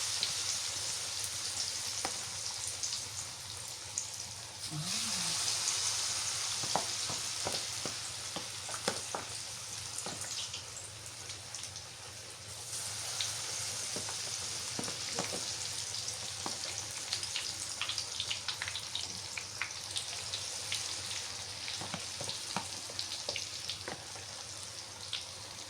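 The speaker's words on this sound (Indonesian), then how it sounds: "Dua kali goreng sudah selesai." Food fries in a pan while lunch is cooked at home: a continuous close sizzle with scattered crackles and pops, steady for about twenty-five seconds, with no talk.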